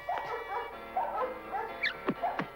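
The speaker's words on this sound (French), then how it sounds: "c'est le chien du maire" A dog barks and yips in short, excited bursts, several in quick succession, close by with a whining edge.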